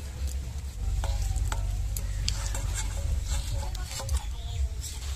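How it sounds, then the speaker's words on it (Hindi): Mutton and onions frying in a pan on a village stove, a steady loud sizzle with frequent stirring scrapes and small pops running the whole time, close up with no talking. "मटन और प्याज बढ़िया से भुजा गया है"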